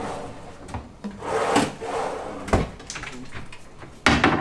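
A wooden drawer in a budget studio hotel room in Da Nang is slid open and shut, with several dull sliding rubs and knocks of wood, the last thump loud and close.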